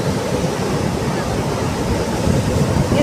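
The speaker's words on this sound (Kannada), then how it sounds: "ಕೆಳಗಡೆ ನೀರು ಹೋಗ್ತಾ ಇದೆ ನಾ ಇಂದ ಬರ್ತಕ್ಕಂಥ ನೀರು ನೋಡಿ ತೋರಿಸ್ತೀನಿ ಫುಲ್ ಸೀನ್ಸ್ ಹೇಗಿದೆ ಅದ್ರ ಸೌಂಡ್" Water from the Yagachi reservoir dam in Chikkamagaluru pours downstream, a steady, dense, near rush of flowing water that holds at constant loudness throughout with no voices.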